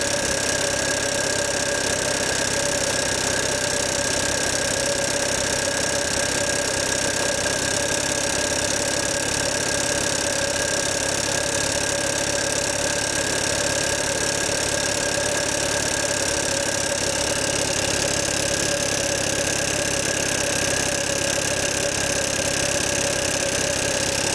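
An old Stuart double-action model steam engine runs under steam from a test boiler, giving a steady, continuous mechanical hum and hiss with an even rhythm throughout, close and alone with no talk.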